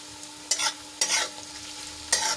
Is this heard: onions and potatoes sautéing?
yes